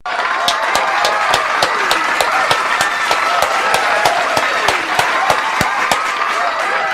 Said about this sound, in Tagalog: At eto na nga. Palakpak!